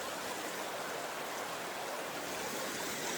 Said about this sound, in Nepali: इस्मोको क्याम्प ग्राउन्डको डार्ट माउथबाट आएको खोला हो यो